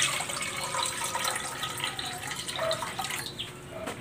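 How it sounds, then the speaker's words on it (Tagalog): Water splashes and trickles steadily into a metal cooking pot, a close, continuous pouring sound with gurgling changes as it fills. "maglalagay muna ako ng tubig dito sa kaserola"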